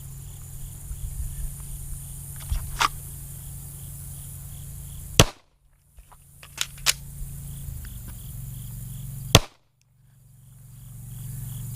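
Glock Gen 5 pistol firing during a drill with a magazine change: a few sharp, isolated cracks spread over several seconds, two much louder than the rest, over a steady low background hum with no talking.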